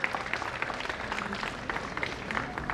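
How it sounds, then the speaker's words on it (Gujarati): A crowd applauds a deputy director as she is welcomed onto the stage at a skill competition event, steady dense clapping filling the room at moderate loudness throughout. "એમનું પણ ખૂબ તાળીઓના ગુંજન સાથે આપણે બધા સ્વાગત કરીએ."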